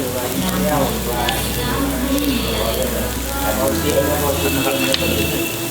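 Food frying in a pan at a local eatery in Xiangkhouang, Laos, a loud continuous sizzle and crackle close by, with stirring sounds and someone talking over it.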